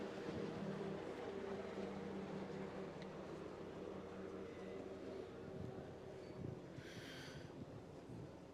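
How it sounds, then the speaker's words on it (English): Steady loud engine drone from a racing powerboat in practice at the E C Griffith Cup, a constant low roar with wind buffeting throughout. "Boat number 24, the all-white machine of Tyler Gilligan"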